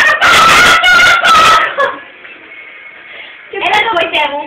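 A voices loud, strident chicken-like clucks and squawks in a few quick bursts, a mimicked hen call delivered up close with breathy pauses between phrases.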